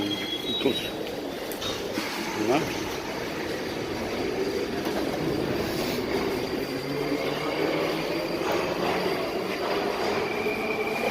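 An older, rattly metro train running on the underground in Russia, a loud continuous rumble and clatter with squealing wheels and metallic rattles throughout.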